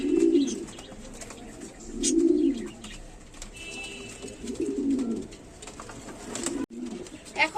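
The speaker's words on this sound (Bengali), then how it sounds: "যে কবুতরগুলি দেখাচ্ছে এখানে তিনটা নর আছে" Pigeons kept for sale, including homer, chila and grizzle males, coo in deep rolling bursts that recur every couple of seconds. A few faint chirps sound between the coos, and no one speaks.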